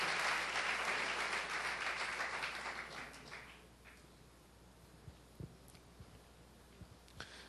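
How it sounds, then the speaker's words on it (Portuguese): Congregation applauding at a church service, dense clapping that fills the space for about three seconds, then fades out, leaving scattered single claps and a few isolated knocks in a quiet room. "Isso merece sim uma linda salva de palmas ao nosso Deus."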